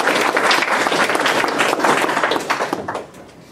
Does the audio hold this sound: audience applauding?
yes